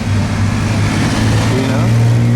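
A Porsche rolls past at the 2020 Amelia Island Concours, its engine note humming steadily and rising slightly toward the end, close and fairly loud.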